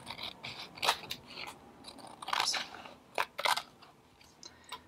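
Scissors trimming the paper backing of a handmade hinged book, giving a series of close, crisp snips and crunchy cuts in irregular bursts, with no talking.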